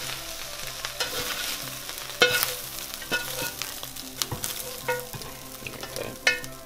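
A pork gravy casserole mixture is scraped and spooned from a skillet into a casserole dish, with wet stirring, scraping and soft sizzling alongside scattered clinks of a utensil against the pan.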